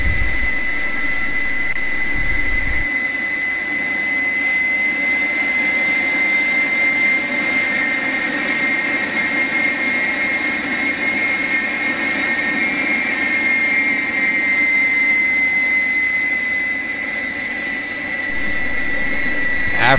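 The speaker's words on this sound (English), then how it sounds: "Then we hit the starter switch for engine 2 and it starts to spool up." Fouga CM.170 jet engine spooling up after the starter is engaged, a loud steady turbine whine with a rising high tone and rumbling roar, sustained and close throughout.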